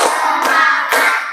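A classroom of students clapping hands together in unison on a teacher's count, a few sharp collective claps spaced under half a second apart, loud and close, with no talking heard.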